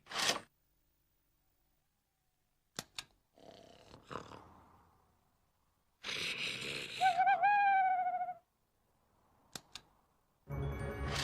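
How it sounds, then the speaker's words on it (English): An owl hoots at night in a cartoon, a single wavering call heard clearly between quiet gaps, with brief knocks and scuffling sounds before and after. "It's only an owl, Dig"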